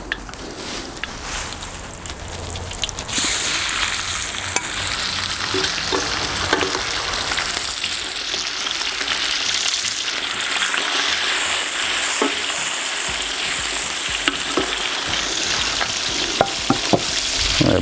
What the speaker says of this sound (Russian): И обжариваем его